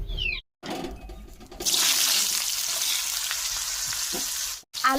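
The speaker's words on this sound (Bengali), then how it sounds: "কড়াইতে আলুটা ভেজে নিচ্ছি" Potatoes frying in a wok on a gas stove: a steady, close hissing sizzle starts abruptly after a short clatter and continues for several seconds, then cuts off briefly, with no talk.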